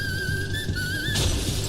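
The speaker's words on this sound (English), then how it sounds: "that was the sound of a nearby Starbucks window exploding" A piercing, sustained high whistle note wavers for about a second, then a nearby Starbucks window bursts with a sudden, sharp shatter at the end.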